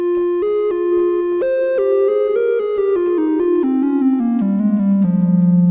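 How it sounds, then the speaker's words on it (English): Behringer PolyD synthesizer oscillator set to a triangle wave, playing a slow, clear descending melody of sustained single notes with a soft, rounded tone, alone and without talking. "let's set that to a triangle wave"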